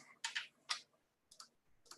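A few scattered keystrokes on a computer keyboard as URLs are entered, coming in two short bursts separated by a pause, quiet and close.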